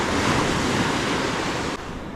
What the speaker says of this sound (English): Got pretty strong easterly wind,